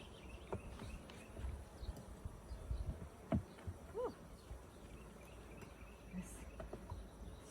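Honey bees in an opened hive give off a low, faint, continuous buzz close by, with scattered handling knocks and rustles over it.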